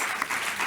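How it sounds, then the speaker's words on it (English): Brief burst of audience applause for panelists at an event on ending human trafficking, continuous clapping without speech. "So a round of applause,"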